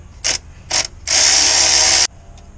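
Two short ratchet bursts followed by a longer, loud continuous clicking run from a ratchet wrench loosening a 13mm starter nut on a 2006 Chevy Cobalt 2.2L Ecotec, close up and with no voices.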